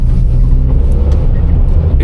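A VW Up with its 1.0 litre engine and an elbow delete accelerating on a street test, a loud, throaty, steady drone heard from close by with no voices.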